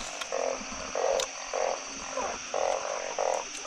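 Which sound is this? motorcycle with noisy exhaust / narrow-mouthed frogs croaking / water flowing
narrow-mouthed frogs croaking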